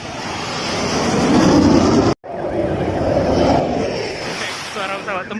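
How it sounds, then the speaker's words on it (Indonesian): Fighter jets fly over an air force base during an air show, making a loud, continuous roar mixed with strong wind buffeting. There is a brief dropout midway, and the roar then swells again and fades unevenly. "Suara pesawat tempur"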